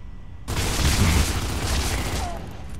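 Lancer assault rifle firing with an active reload boost in the video game Gears of War 3: after a brief quiet start, a loud, sustained burst of rapid gunfire fills the rest of the clip.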